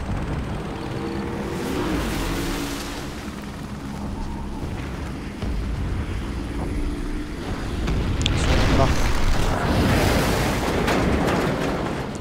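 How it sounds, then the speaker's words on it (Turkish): A big explosion in Call of Duty: Ghosts booms and rumbles amid a dense roar of engines and blasts, swelling louder toward the end. "Güzel patladı ama."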